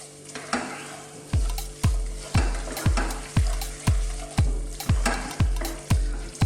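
Ground beef filling with chopped feta being stirred in a pan off the heat, a spoon scraping in a steady rhythm of about ten strokes over a faint sizzle, close and alone.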